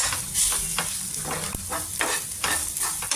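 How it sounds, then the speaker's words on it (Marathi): Ground spices stirred into a sizzling mixture for a Maharashtrian brinjal and potato curry (vangi batata rassa bhaji), with steady, rhythmic scraping strokes over a continuous close, moderate frying hiss and no talking. "हे घेतलेले जे मसाले आहेत हे टाकून घेऊ आणि चांगलं मिक्स करून घ्यायचं"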